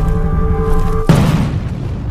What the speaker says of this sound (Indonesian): Hingga tiba-tiba sebuah ledakan pun terjadi.